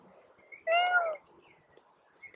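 A single drawn-out meow lasting about half a second, voiced by a person imitating a cat, clear against a quiet background.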